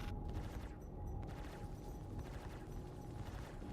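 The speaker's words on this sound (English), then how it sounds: "Let the turrets on top do their work" Spaceship turrets fire continuously in a space combat video game set at an outpost in Pyro, a dense, rumbling barrage of rapid shots that stays steady and loud throughout.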